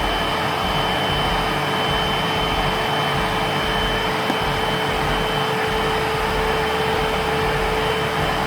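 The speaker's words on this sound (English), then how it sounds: "Sounds like a vacuum." A Bissell SpotBot carpet cleaner runs continuously with a loud, steady vacuum-like whoosh and a high whine layered on top.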